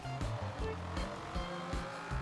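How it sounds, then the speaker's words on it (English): Dodge Viper engine in Forza Horizon 4 roaring during a race, revving up and down through quick gear changes with tire noise, heard faintly without talk over it. "this Viper sounds so good too"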